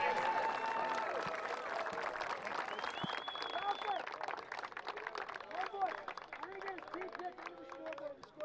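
Applause for a high school rugby team at a state championship final, steady broadband clapping from a crowd with murmuring and brief voices mixed throughout, moderately loud and continuous.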